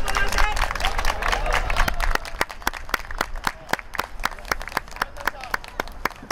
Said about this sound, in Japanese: 激戦を戦い抜いた両チームの選手にもう一度温かい拍手をお送りください